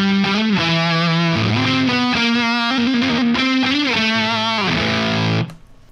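Electric guitar played through a Big Monk Pompeii fuzz pedal, thick saturated sustained chords with shifting pitch across a short phrase, loud and close, ending with an abrupt cutoff.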